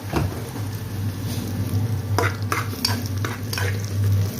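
Pansit bato noodles stir-fried in a pan, a steady close sizzle with a low hum beneath and scraping stir strokes knocking in at irregular intervals, no voices.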